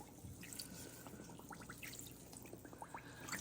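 Water poured into a basin to soak a knitted scarf, a faint trickle with scattered drips and splashes, quiet and close, no voices.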